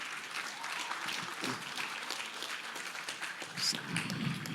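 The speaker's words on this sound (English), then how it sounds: "let's give General Flynn and all the guest speakers here a big round of applause again" Applause from an audience at a General Flynn special event, a steady broadband patter of many hands clapping throughout, moderately loud and continuous with a few brief louder bursts.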